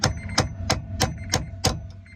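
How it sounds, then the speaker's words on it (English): A hammer strikes a steel cold chisel set against the edge of a tamper-proof bolt on a 2003 Honda Element ignition, giving six sharp metallic clanks at a roughly steady pace, close and loud, with no talking. "we're going to tamper with using a hammer and a regular old steel cold chisel"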